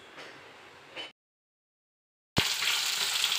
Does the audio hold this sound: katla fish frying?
yes